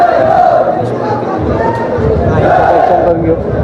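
Dense crowd at a palkhi procession by a temple in Navi Mumbai, loud overlapping voices and shouts filling the scene without a break.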